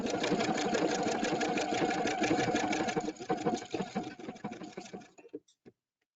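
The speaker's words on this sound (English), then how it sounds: "I'm just gonna stitch 2 more stitches" An EPIC 2 sewing machine sews a sequence of laser pictogram stitches, humming steadily and fairly close for several seconds before slowing into uneven stitches and stopping.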